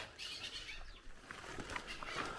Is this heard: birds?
yes